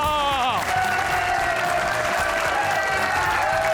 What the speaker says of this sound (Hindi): ख़वातीन और हज़रात, तालियां